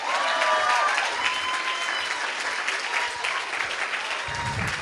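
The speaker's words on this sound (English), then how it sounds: "So can we have a massive applause for Ron," Crowd applause at a students' union election results night, a full burst of clapping that carries on steadily, with a faint whistle or voice near the start.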